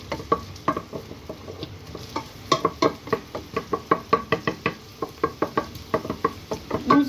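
Shallots for moules marinières are stirred in a pan, with a quick run of clacking utensil knocks over a soft sizzle.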